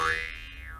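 Jaw harp twang, a single short boing with a rising then falling pitch glide, fairly quiet and close.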